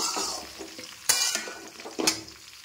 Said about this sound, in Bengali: এইগুলোকে ভালো করে ভেজে নেব।